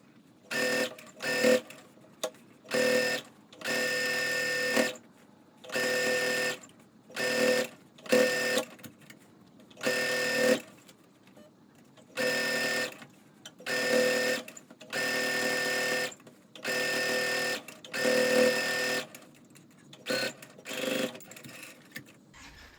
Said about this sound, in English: You want to back stitch and sew the top seam of the bag.